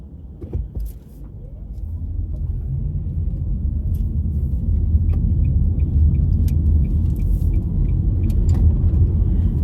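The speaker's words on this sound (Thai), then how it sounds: "พาเพื่อนๆขับรถเล่นค่ะเพื่อนๆชมบรรยากาศที่สวยงาม" A car drives along a busy road in Norway, its engine and tyre rumble building into a steady, loud drone from inside the cabin, with faint clicks and a brief thump near the start.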